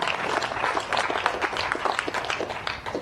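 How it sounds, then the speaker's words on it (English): An audience at a Uganda–Europe business forum claps in steady, dense applause lasting the full stretch, fairly loud and close, with a faint murmur of voices beneath. "Uganda, they should have clapped for that"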